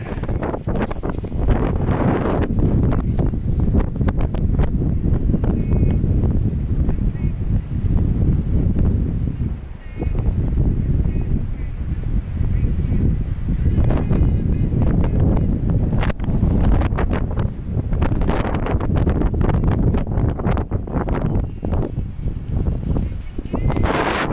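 Strong wind buffeting the microphone on an outdoor hiking trail near a waterfall, a loud, constant rumbling roar with gusty surges throughout and only a brief lull.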